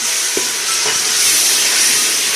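Dal chana roasting in a pot over a fire: a loud, continuous dense sizzle and hiss heard up close, with a faint knock or two from a spoon early on.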